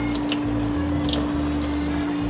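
Water poured into a pan while making Japanese candied sweet potato, a brief steady splashing trickle with a low hum beneath, close and fairly loud.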